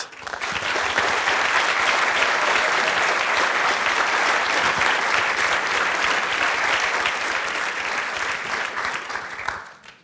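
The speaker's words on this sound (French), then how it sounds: "Merci d'applaudir très fort Daniel Tammet." A large audience at a French talk on pi claps loudly and steadily for several seconds, the applause fading out at the end.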